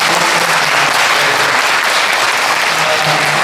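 Sustained applause from an audience at a 2023 interfaith prayer gathering for peaceful reunification in Bucheon, a dense, steady clapping wash filling the room at full volume with no voices over it.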